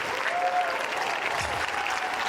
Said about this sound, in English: give her a round of applause, a thundering round of applause